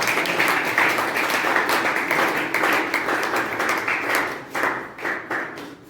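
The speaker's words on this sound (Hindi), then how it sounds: "हाँ, जोरदार ताली जी" An audience claps loudly and steadily in a dense, continuous wash of applause that holds for several seconds before easing slightly toward the end.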